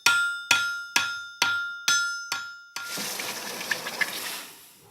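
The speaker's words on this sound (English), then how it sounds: "I just got to put a little finish touch on it with a hammer." Six sharp metallic hammer strikes ring out in a steady rhythm, each with a bright ringing decay, followed by a noisy rushing hiss.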